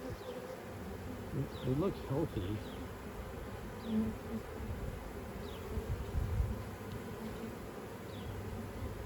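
A low, steady buzzing of many honey bees in a hive box hums throughout, with occasional brief louder passes, while a voice speaks quietly in the background.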